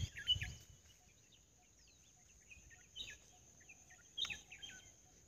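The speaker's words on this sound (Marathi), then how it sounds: "शांत आणि पक्ष्यांचा किलबिलाट" Birds chirp in quiet natural surroundings, with short high calls scattered through the stillness, mostly faint and distant, plus a couple of slightly louder bursts.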